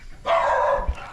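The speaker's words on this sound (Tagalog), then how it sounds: "Oh, may aso." A dog gives a single sharp, loud bark close by, against a faint background hum, with no voices at that moment.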